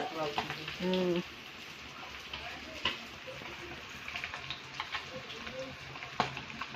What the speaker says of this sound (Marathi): तेल गरम करून जे ग्रेव्ही मसाला केला तर तो मसाला छान तेल सुटेपर्यंत भाजून